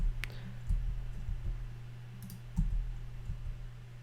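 Mouse button clicks on a computer while working in After Effects, a few soft, scattered clicks over a steady low hum, close and quiet, with no talking.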